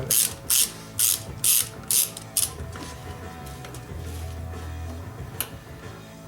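A ratchet with an extension turns bolts on the fuel tank of a 1996 Chevrolet Impala SS, making about six crisp bursts of clicking in a regular rhythm, followed by quieter mechanical handling noise.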